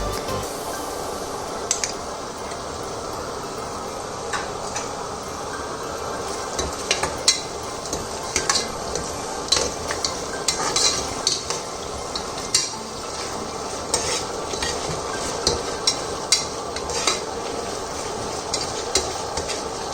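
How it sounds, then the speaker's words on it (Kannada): Ginger garlic paste fries in oil with green chillies for mushroom biryani, a steady close sizzle under rhythmic spoon scrapes and frequent light clicks against the pan, continuing for a long stretch with no speech. "ಇದನ್ನು ಸ್ವಲ್ಪ ಚೆನ್ನಾಗಿ ಫ್ರೈ ಮಾಡ್ಕೋಬೇಕು, ಹಸಿ ವಾಸನೆ ಹೋಗಬೇಕು ಜಿಂಜರ್ ಗಾರ್ಲಿಕ್ ಪೇಸ್ಟ್ದು."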